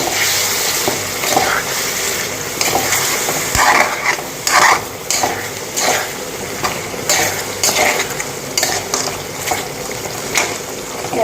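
Butter chicken being stirred in a pan after water is added, with a steady sizzle and scraping spoon strokes against the metal, close and continuous with no talking.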